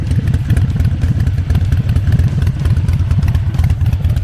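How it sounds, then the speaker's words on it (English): Loud Harley motorcycle engine running steadily close by, a deep, throbbing, rapid lumpy rumble with mechanical clatter and no break for about four seconds. "That bike is so loud."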